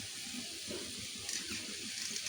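Water poured into spiced masala (coriander powder, homemade garam masala) frying in a pan for an Odia fish curry, giving a soft continuous hiss and sizzle with faint bubbling, fairly quiet and steady throughout.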